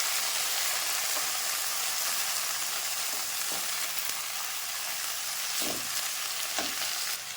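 Spinach sautéing with onion in a hot pan, a continuous loud hiss of frying with a few soft stirring scrapes toward the end, close by and without speech.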